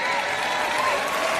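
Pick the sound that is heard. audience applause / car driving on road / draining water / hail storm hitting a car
audience applause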